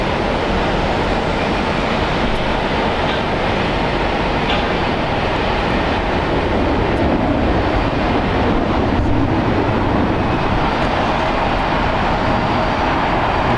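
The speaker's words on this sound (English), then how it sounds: "Boeing 767-300ER, 26 years old. Just departed on runway 24 left on the north side of LAX." A 26-year-old Delta Airlines Boeing 767-300ER jet departing runway 24 left at LAX: a loud, continuous broadband roar that holds steady throughout, with no voices.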